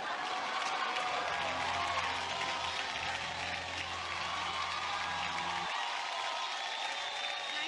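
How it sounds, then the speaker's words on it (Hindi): Steady applause from an awards-show audience fills the whole stretch, dense and continuous, with a low hum underneath that cuts out near the end. "तालियां होनी चाहिए"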